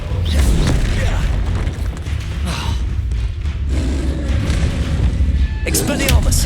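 A Glacius ice spell cast in Hogwarts Legacy among other combat spells: loud booming bursts and thuds over a dense rumbling wash, ending with a sharp crackling flare.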